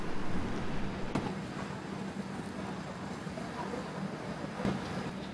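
A train stands at platform 2 of an Indian railway station, with a steady, fairly loud wash of station and engine rumble throughout and a couple of brief knocks and clanks.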